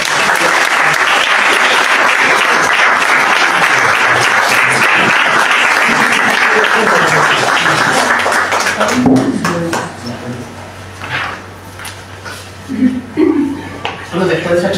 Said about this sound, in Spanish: Os pido un fuerte aplauso para Ana.